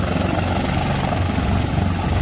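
A medical air ambulance helicopter flies nearby with a loud, steady, continuous rotor and engine roar that stays constant throughout.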